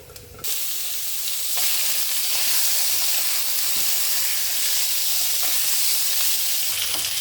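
Sliced pork belly sizzles loudly in hot oil in a pan, a steady close crackle and hiss that starts abruptly and holds without a break.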